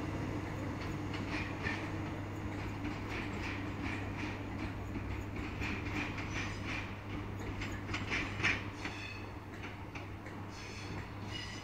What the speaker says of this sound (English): The 21:40 ScotRail service to Cumbernauld from Milngavie